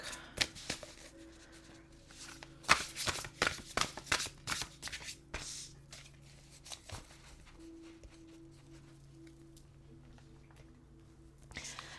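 Tarot cards being shuffled by hand in a quiet room, a run of crisp riffling bursts and soft slaps close by, busier early on and then settling into faint rustling with a low steady hum.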